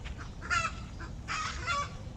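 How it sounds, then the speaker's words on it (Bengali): Several domestic geese honk in short bursts, loud and fairly close, over a low background rumble. "এই যে আমাদের রাজহাঁস এগুলা যে ডাকাডাকি করে"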